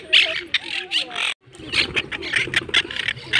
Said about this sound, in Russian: Да, птички, не ругайтесь вы.